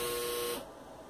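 A clothes dryer signals the end of its cycle with a single steady electronic beep that holds for about half a second and then cuts off, faint and heard alone.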